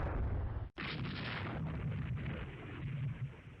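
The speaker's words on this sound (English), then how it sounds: "A lot of gunfire in general" Naval gunfire in the warship strategy game Rule the Waves 2, a sustained roar of heavy guns and explosions broken by one abrupt cutoff, dense and loud throughout.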